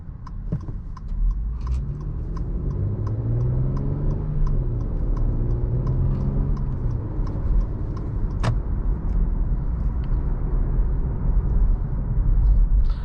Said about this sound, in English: I love the sound of this V6 engine. Sounds really good